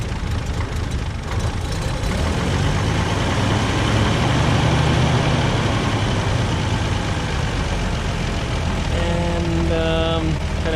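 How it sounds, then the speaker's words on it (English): A pre-war Rolls-Royce engine with its exhaust cutout open idles low and steady, then builds in a continuous heavy rumble as it accelerates, loud and close throughout. "So now I turn the idle down quite a bit, and I believe the cutout is now opened. And then I'm going to accelerate."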